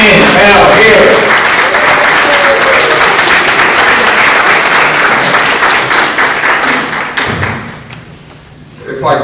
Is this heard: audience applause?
yes